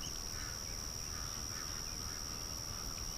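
Ducks quack softly at a distance outdoors, among a flock that includes ducklings being rescued and raised, with a steady background hiss and no voices.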